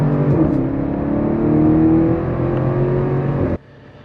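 A turbocharged inline six-cylinder car engine hums loud and close from inside the car, with the drone rising slightly before it drops off abruptly near the end.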